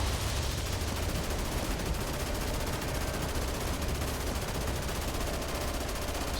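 Rapid video game gunfire is aimed at glowing lights and a small turret. The shooting forms a dense, continuous rattle of shots that stays at a steady level throughout, with no speech.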